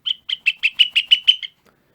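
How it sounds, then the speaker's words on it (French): A bird chirps in a quick run of about nine sharp, high tweets, clear and close against silence, in a French children's story. "Leur vacarme attire un oiseau qui s'approche bec ouvert pour goûter Pépin."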